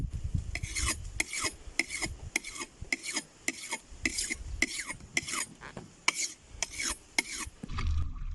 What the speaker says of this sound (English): Here's Scott here sharpening up a knife with a stone that he found here on the beach.